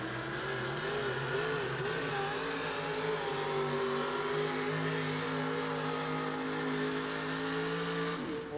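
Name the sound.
4wd truck pulling a sled at Kemper Arena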